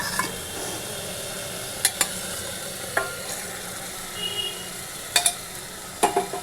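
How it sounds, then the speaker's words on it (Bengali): Boiled mung dal tipped into sizzling masala in a pan and stirred, a soft continuous frying hiss with scattered spoon and pan clicks, close, no talk. "এবার আমি এটাতে ডালটা দিয়ে দিলাম"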